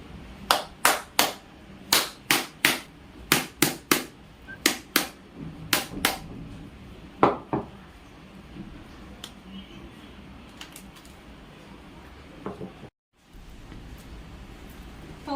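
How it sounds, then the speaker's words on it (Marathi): A hard wood apple shell is struck again and again, a quick run of sharp, loud knocks at an uneven rhythm, then a few scattered taps before a quieter stretch. "पाहू शकता आपलं कवठ फोडून झालेलं आहे"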